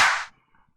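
A single crisp clap drum sample from a beat being mixed in FL Studio, a bright noisy burst lasting about a third of a second and then cutting to silence.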